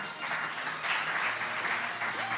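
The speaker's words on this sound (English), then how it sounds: "can we have a big round of applause for them?" Audience applause at a fintech marketing conference in Vietnam, a steady wash of clapping held at moderate level throughout with some faint background tone.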